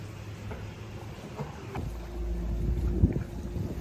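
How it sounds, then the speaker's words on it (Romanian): Wind buffets a boat on a sea excursion off Sagres, Portugal, a low rumbling roar of gusts and engine-like drone that swells louder partway through, with no talking. "Ne-a bătut vântul."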